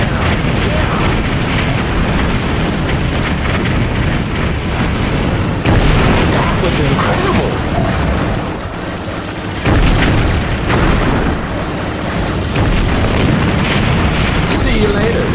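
Repeated heavy explosions from the helicopter video game Heli Heroes roll on for a long stretch, loud and dense, with several louder bursts and brief lulls between.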